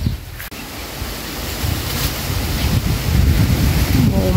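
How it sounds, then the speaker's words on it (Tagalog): Strong gusty wind roaring steadily outdoors on a sweet potato farm plot, a loud broadband rush that builds slightly over a few seconds with no talk. "Ayan, sobrang hangin dito pag mga ganitong buwan."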